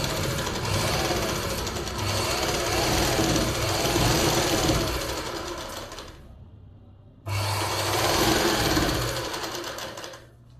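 A sewing machine stitches dhoti salwar fabric in a loud, fast run that stops briefly for about a second and then resumes in a second burst.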